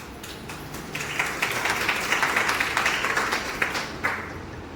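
An audience of women at a Bharatiya Mazdoor Sangh gathering claps continuously, with crisp individual claps standing out in a steady, moderately distant wash of applause.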